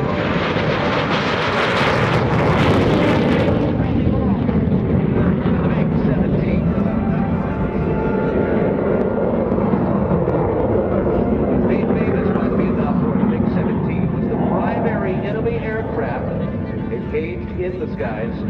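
A military jet makes a low pass and tucks its landing gear up at the 2017 Rhode Island Air National Guard open house and airshow, a loud, steady engine roar that lasts throughout while an announcer talks over it.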